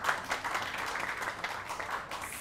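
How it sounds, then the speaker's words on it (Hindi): A crowd claps in a short, even burst of applause, with a few individual claps audible and no talk over it. "आप तालियां बजा सकते हैं।"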